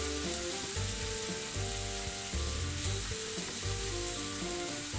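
Leeks and carrots fry in a pan with a steady, close sizzle and crackle, continuous for the whole stretch, while soft background music plays underneath.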